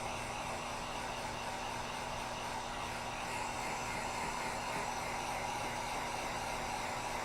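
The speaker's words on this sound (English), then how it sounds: "we use this heat gun to speed things up" A heat gun blows steadily while drying craft paint, giving a constant, even, close whooshing roar with no pauses.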